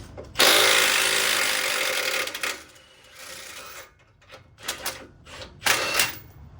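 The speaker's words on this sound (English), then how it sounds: "We're going to go ahead and take off the bolts for the strut that go in the bottom." An impact wrench or power tool on the lower strut bolts of a 2023 Ford F-150 Platinum, a loud sustained whirring burst followed by several shorter intermittent rattling bursts.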